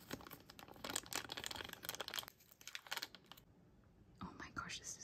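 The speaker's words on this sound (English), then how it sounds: "It is already pre-cut at the very top, so you don't have to struggle opening these plastic bags." A pre-cut plastic toy bag is pulled open in close, quiet crinkling and rustling bursts, with a pause midway before more crackling handling; faint whispery sounds mix in.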